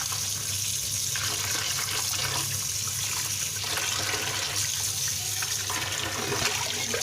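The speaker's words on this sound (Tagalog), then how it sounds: "Guys, hugasan na natin yung ating pork muscle." Running tap water pours steadily over pork muscle being washed under the faucet, a continuous close splashing rush with no voices.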